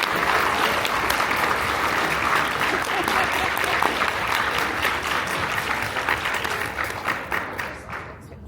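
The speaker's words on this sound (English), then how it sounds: "let's give each of you all and our panelists another round of applause" A crowd gives a long round of applause for panelists at an event on recycling, the clapping dense and steady for most of its length before thinning out and fading near the end.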